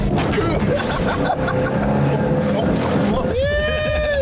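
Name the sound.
BMW Isetta two-cylinder microcar driving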